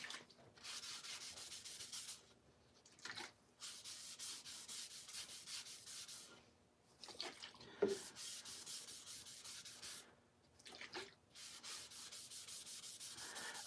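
Yorkshire grit abrasive paste is rubbed against a dyed wooden bowl spinning on a lathe, giving a soft hissing scrub that comes in several long passes separated by short pauses. The level stays fairly low and no one speaks.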